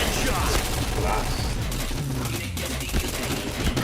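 Dense gunfire rattles on and off in a Point Blank match, with rapid bursts and shots layered under game sounds and a player talking.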